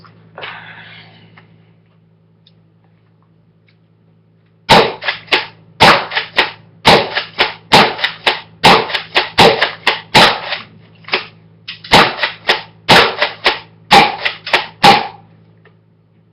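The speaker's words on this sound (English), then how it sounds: "I think we're gonna go shotgun on this." Shotgun shots fired at a target: after a few quiet seconds, a long, rapid run of sharp, loud cracks follows, roughly two per second, with brief pauses between clusters.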